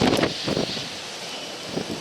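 Strong wind from a March winter storm with whiteout conditions rushes and buffets the microphone in gusts, loud and continuous throughout the short stretch with no talking.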